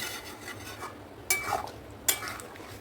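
A spoon stirs chicken curry with sour yogurt in a pan over low heat, making soft scraping and a few sharp clinks against the metal, fairly quiet and close, with no speech.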